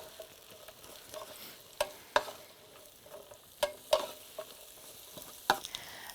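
Zucchini cooking in a pan, with a low sizzle broken by several sharp, close clinks and scrapes of a utensil stirring at irregular moments.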